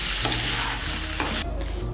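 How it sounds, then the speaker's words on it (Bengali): Mixed vegetables fry in oil in a kadai with a loud, close crackling sizzle while being stirred, the hiss briefly dipping and shifting as they are turned, and no one speaking. "মিশিয়ে নিয়ে সমস্ত সবজিগুলোকে ভালো করে ভেজে নেব"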